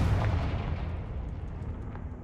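Confringo fire spell explosion in Hogwarts Legacy, a loud booming burst with a rumbling tail that fades over about two seconds.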